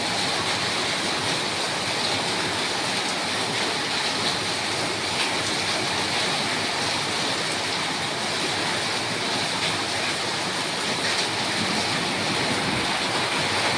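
A heavy downpour during a thunderstorm roars without pause outside an upper-floor house, a thick, uniform wash of noise like rushing water, loud and unbroken, with no voices.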